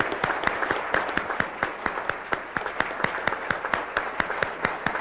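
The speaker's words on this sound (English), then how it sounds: "Let's give them a round of applause." Audience at an engineering awards ceremony claps for standing honorees, a moderate crowd of distinct, fairly rhythmic hand claps carrying steadily through the room without talk.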